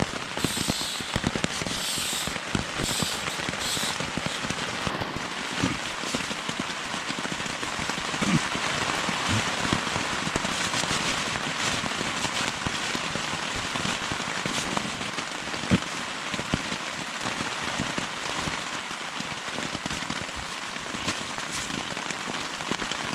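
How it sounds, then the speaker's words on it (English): Steady rain falls on a wet morning as a dense, even patter that holds constant and fairly loud for the whole stretch, with no voices. "Welcome to a nice rainy morning."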